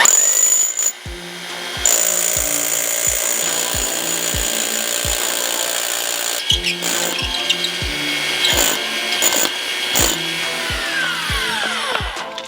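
A power drill whirs steadily and close during a kitchen renovation, its motor pitch dipping in short rhythmic pulses, with a brief pause before it spins up again.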